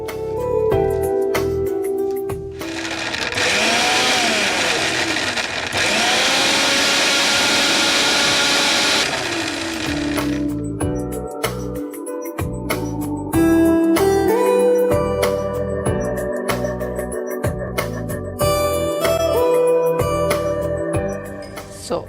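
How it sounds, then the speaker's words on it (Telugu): Kitchen mixer grinder blending soaked, peeled almonds with milk in a jar: a loud, steady motor whir runs for several seconds, stops, then restarts in short pulses with rattling bursts. "ఇప్పుడు దీన్ని మనం మిక్సీ పట్టేసుకుందాం."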